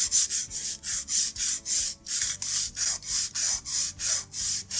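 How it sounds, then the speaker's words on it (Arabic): Hand sanding of a wooden piece with sandpaper, done to give the wood an aged look before tea staining: steady back-and-forth rubbing strokes, about three per second, close and loud with no talk. "لازم نبدأ نصنفر"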